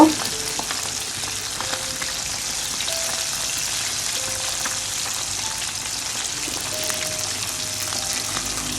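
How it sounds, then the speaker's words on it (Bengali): Pabda fish fry in a pan with a loud, continuous close-up sizzle that holds even throughout, with occasional light clicks. No voices. "মাছটা আমি এক পাশ ভেজে নিচ্ছি এখন উল্টিয়ে অন্য পাশ ভেজে নিব"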